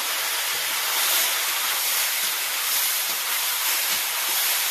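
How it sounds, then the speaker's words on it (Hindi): Small whole country fish dropped into hot oil after cumin and onion, giving a loud, steady hissing sizzle that fills the whole clip without letup, no voices. "फिर ये मछली डालेंगे बने।"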